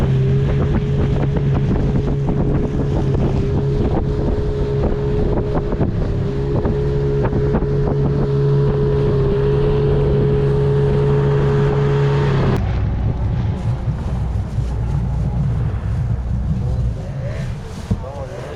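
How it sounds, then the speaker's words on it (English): Motorboat ride across the water at Badagry, Nigeria: a steady droning engine hum with wind buffeting the microphone, the engine note dropping and shifting late on as the boat slows. "It was a short boat ride, but I've crossed over to the other side"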